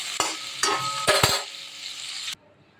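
Potatoes being fried until reddish-brown in fish oil, with a spatula scraping and stirring in several bursts over a steady sizzle that cuts off abruptly near the end.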